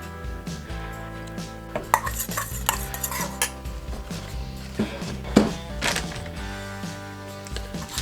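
Soap batter scented with bluebonnet fragrance is stirred in a container, with irregular scraping and clinking of the utensil over a tonal background hum.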